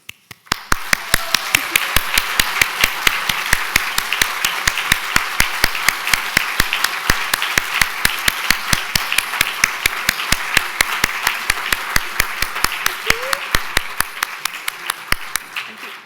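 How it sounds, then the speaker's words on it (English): A steady, fairly loud round of applause at a morning food roadshow breakfast event, a dense rapid patter of many hands with sharp distinct claps standing out throughout, fading near the end. "take a bit of a round of applause for breakfast"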